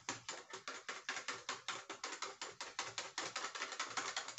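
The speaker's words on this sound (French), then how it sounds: "Tu m'as mis le pichet devant. Tu mélanges bien." Batter is whisked in a pitcher, the whisk striking the sides in a steady, fast train of close, crisp taps about four per second, with no voices.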